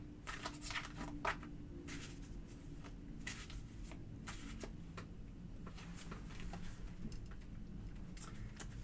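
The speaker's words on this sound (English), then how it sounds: "I'm going to go ahead and shuffle" A tarot deck, the Ancient Egypt Tarot, is shuffled steadily for about nine seconds, giving a continuous close riffling and sliding of cards with a few sharper snaps near the start. A low background hum runs underneath.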